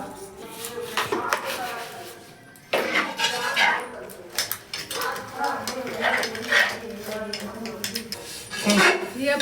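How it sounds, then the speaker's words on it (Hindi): A kadhai and other pots being washed by hand, with repeated metallic clinks, scrapes and clatters of dishes and cutlery close up, in irregular bursts with brief pauses. "ये कढ़ाई धो रहे हैं"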